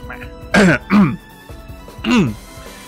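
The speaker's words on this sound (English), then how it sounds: "you're gonna hear me like clear my throat a bit" A person clears their throat several times, with gruff voiced bursts separated by short pauses, close to the mic.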